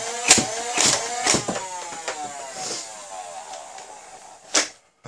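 Holiky M416 foam blaster's flywheel motors spinning up in a whining rev, with sharp repeated firing bursts at a slow, steady rate, close and loud before a short silence.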